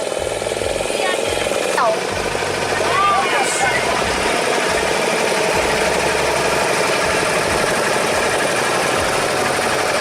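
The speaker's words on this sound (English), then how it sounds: "we are scaring the dolphins with all that noise the boats are making" Boat engines on Chilika Lake drone steadily and loudly without a break, with a low throbbing hum and a few faint squeaks above it.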